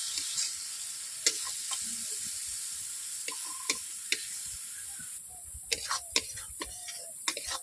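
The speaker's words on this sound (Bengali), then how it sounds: "অল্প জল দিয়ে আমি নেড়ে নিচ্ছি 5 মিনিট মতো।" Paneer masala simmers with a little water in a pan, a steady soft sizzle broken by sharp ticks and scrapes of a spoon stirring at irregular intervals.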